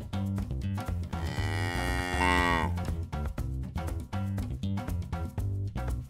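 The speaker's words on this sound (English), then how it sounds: "Cows say moo as a way to communicate with other cows." One cow gives a drawn-out, fairly loud moo in the middle, set against a continuous rhythmic music bed.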